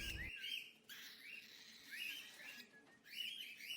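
A cockatiel gives a series of bright, close chirps and short whistled calls in quick bursts, with brief pauses between them and no talking.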